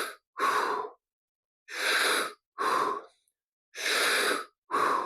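Slow, deep breaths during a guided squat exercise, long, airy inhales and exhales in separate bursts with silent pauses between them, close and clear.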